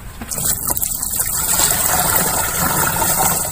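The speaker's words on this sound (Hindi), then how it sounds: "टंकी में हम पहले थोड़ा सा पानी मिलाएंगे, इसमें नट लगा हुआ है, इसका उपयोग करते हुए पानी डालेंगे।" Water gushes steadily into a farm sprayer tank, a continuous close rushing pour that starts just after the opening moment and runs unbroken to the end.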